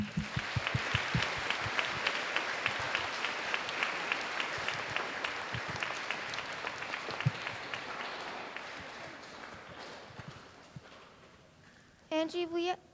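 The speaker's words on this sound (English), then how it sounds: "my round of applause to you." A school audience at a Pay it Forward event applauds steadily for about ten seconds, fading gradually, before a voice begins speaking at the end.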